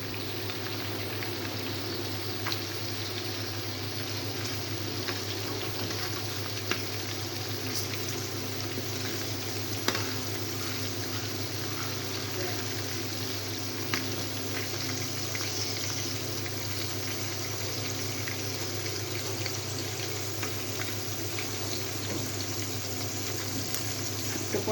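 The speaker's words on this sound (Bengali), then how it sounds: "হ্যাঁ, মুরগি ভাজাটা হয়ে আসছে প্রায়" Chicken pieces deep fry in oil, a steady close bubbling sizzle with faint crackles and occasional sharper pops, continuing evenly over a low background hum.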